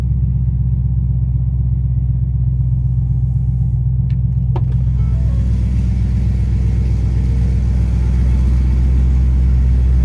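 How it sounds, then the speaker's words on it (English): A 2010 Ford Mustang Shelby GT500 with a 6-speed manual idles with a loud, deep and steady exhaust rumble heard up close, continuous throughout with a couple of faint clicks and no voices. "Slip around to the back of this so you can hear it. It does sound throaty and mean."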